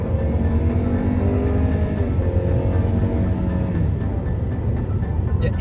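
A 2011 Chrysler 200 accelerates hard from inside the cabin, engine drone rising under steady road and wind rumble that fills the whole stretch without pause.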